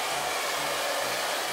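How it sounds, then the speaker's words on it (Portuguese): A hair dryer blows warm air in a steady, loud, unbroken whoosh, running alone without any voices. "E esse secador ainda deve estar com aquele vento quentinho"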